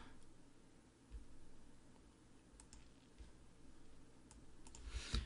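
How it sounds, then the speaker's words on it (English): A computer mouse clicked once or twice, a sharp faint tick near the end over low steady room hum and a soft keyboard-like background. "I'm going to click pause"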